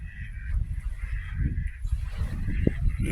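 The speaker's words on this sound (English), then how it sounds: "Look at all the geese." Geese and ducks honk at a copperhead boat landing, a close, continuous chorus of overlapping calls with a busy low rumble beneath.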